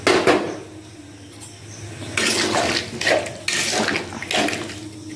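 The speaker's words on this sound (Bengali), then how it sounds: "একটু জল দিয়ে দিলাম।" Water poured into a pot of vegetable curry during home cooking, a splashing pour in bursts with utensil and pan clatter around it, close and fairly loud.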